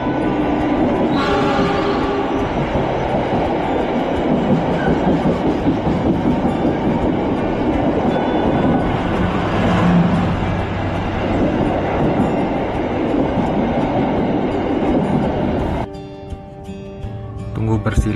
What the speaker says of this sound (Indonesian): tunggu bersilang dengan kereta api Mutiara Selatan